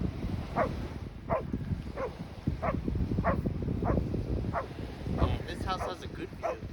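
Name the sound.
dog barking at a beach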